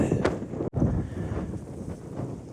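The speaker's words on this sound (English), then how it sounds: "Still very windy, but a nice day." Strong gusty wind on the Pennine Way near a reservoir buffets the microphone throughout, a continuous rough roar with a brief drop partway through.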